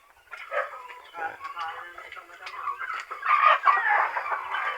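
A hen clucks repeatedly nearby, a run of throaty, uneven calls that grows louder toward the end.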